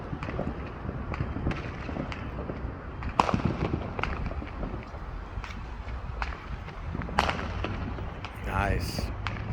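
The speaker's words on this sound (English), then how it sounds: "they're shooting little mini fireworks" Small fireworks on a July 4th night in Katy, Texas, giving scattered sharp pops and crackles at varying distances, several distinct bursts over a steady outdoor background with people talking nearby.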